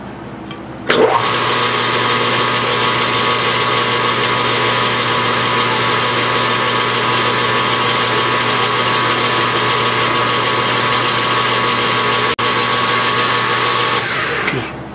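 Metal lathe parting off a part with a parting blade, a loud steady whine with a constant hum that starts abruptly and runs unbroken for about thirteen seconds before stopping.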